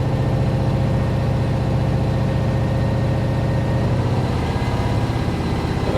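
A Kenworth truck's diesel engine revs up from idle under throttle, a loud, steady low rumble that holds at a raised pitch and then eases back toward the end, with no talking.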